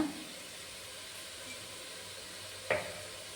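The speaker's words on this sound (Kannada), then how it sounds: "ಅಲ್ಲಿವರೆಗೂ ಇದನ್ನು ಫ್ರೈ ಮಾಡ್ಕೊಳ್ಳೋಣ" Tomato gravy frying in oil in a pan for a one-pot recipe, a steady close sizzle and hiss running throughout, with a brief stir or clink near the end.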